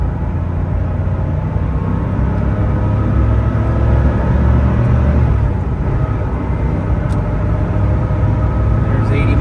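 A 1989 Porsche 911 Carrera coupe with 55k miles accelerates hard onto a freeway, shifting near 5,000 RPM; its engine makes a loud, continuous, dense low drone that stays close throughout.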